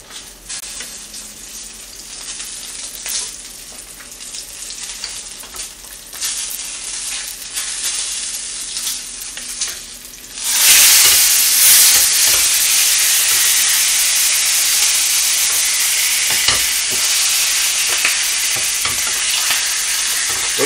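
Mackerel sizzles loudly in a frying pan after being flipped, a dense steady hiss that jumps up sharply partway through and stays strong, with small clinks and scrapes over it and no talking.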